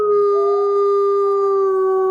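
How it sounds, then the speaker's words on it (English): A dog howls in a long, steady, sustained tone that rises briefly in pitch near the start, loud and alone with no talking over it. "dog is going crazy in the background"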